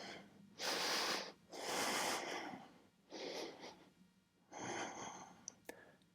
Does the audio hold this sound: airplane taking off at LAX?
no